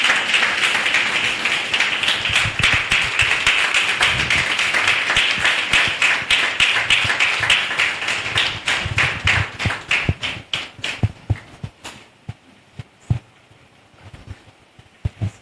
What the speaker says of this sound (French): Applaudis pour Jésus-Christ.